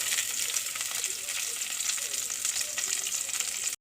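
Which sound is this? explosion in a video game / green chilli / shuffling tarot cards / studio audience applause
green chilli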